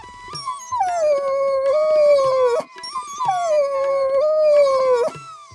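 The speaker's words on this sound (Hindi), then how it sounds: "लगता है कोई कुत्ता पास ही है और वह किसी वजह से पीड़ित है।" A distressed dog howls twice in long, wavering cries that slide down in pitch, each ending in a whimpering break, loud and close with no other sound.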